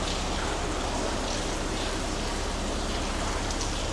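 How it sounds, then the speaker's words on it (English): Rainwater streams steadily in through a narrowboat's ventilation shaft, a dense, continuous hiss and patter of water held at an even loudness throughout, with no talk. "Lots of water coming in."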